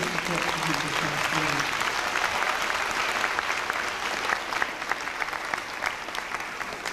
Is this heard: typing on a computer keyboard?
no